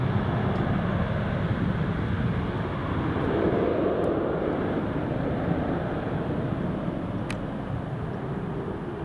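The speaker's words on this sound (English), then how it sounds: "there goes the British Airways heading down to London Heathrow" A British Airways airliner departs Newcastle Airport bound for London Heathrow, a distant, fairly faint jet roar swelling slightly mid-way over a windy outdoor background.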